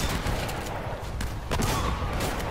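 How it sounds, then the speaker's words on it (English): Shotgun blasts in Uncharted: Drake's Fortune, several sharp, loud reports spaced irregularly over busy combat noise and game ambience. "That was three shots."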